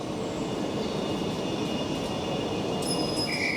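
A Southern passenger train to Tunbridge on a long straight railway gives a steady low rumble and rolling hiss, with faint high whines and a squeal near the end.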